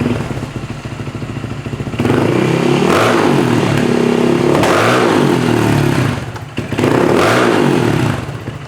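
A motorcycle fitted with a titanium exhaust revs loudly and close by, with three strong throttle blips in a row, each swelling and falling away. Lighter engine idle clatter comes before them.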